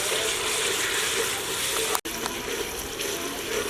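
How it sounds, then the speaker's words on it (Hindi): Finely chopped tomatoes fry in ginger garlic paste in a karahi for chicken karahi, making a dense, steady, close sizzle with a short break midway and no talk. "अब इस मौके पे बारीक बारीक कटे हुए टमाटर हैं मेरे पास, ये शामिल कर लेंगे और इनका पेस्ट तैयार होने तक भून लेंगे"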